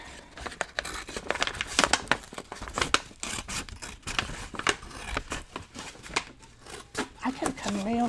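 Scissors snipping through paper for a handmade memory journal, a close run of crisp cuts and light crinkles, with a voice talking over much of it.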